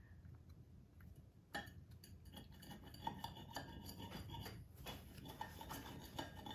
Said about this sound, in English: Trying to get a clean cut here, not the sharpest knife